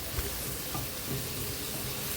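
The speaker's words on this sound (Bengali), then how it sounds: "প্রথমে আমি পেঁয়াজ, টমেটো, কাঁচা লঙ্কা, একটু রসুন, কয়েক কোয়া রসুন ভাজি করে নিচ্ছি" Onion, tomato, green chilli and garlic cloves frying in a pan give a soft, continuous sizzle and hiss, fairly quiet and with no voices.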